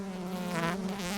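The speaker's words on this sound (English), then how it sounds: "Shaking the bees will not kill them" Honeybees just shaken from a frame give off a close, steady buzzing drone, a dense humming swarm that rises slightly in intensity partway through with no talking.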